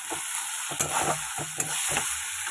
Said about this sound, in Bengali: একটু ভালো করে আগে কষিয়ে নিই।